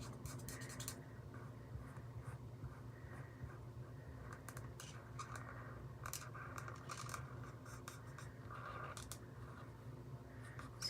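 A pen or marker coloring in a stamped image on a handmade card, making a soft, continuous scratching and rubbing that runs steadily with brief strokes and pauses.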